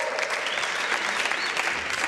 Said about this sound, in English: Applause for them, applause for them.